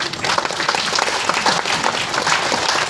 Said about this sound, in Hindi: मैडम के लिए एक बार जोरदार ताली।